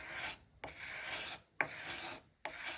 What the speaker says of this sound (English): I can probably just do as well with the scraper blade.